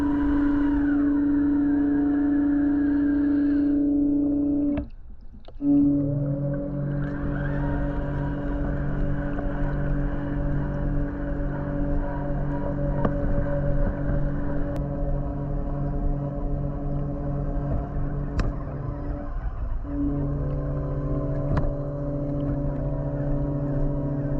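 A Polaris Freedom cordless robotic pool vacuum climbs a pool wall underwater, giving a steady, continuous motor hum that briefly drops out near the five-second mark before resuming, with no talking.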